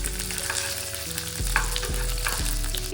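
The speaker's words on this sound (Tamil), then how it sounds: "ஸோ இப்போ சன்னாவை நம்ம தாளிக்க போகிறோம்" Chickpeas (channa) tempering in hot oil for a Tamil New Year festive meal, a steady close sizzle and crackle of frying with a few stirring knocks of a spoon against the pan, no talking.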